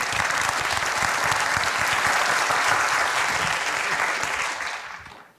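A lecture-hall audience at a National Taiwan University talk claps warmly for the panelists, a dense even wash of applause that holds steady before tapering off near the end.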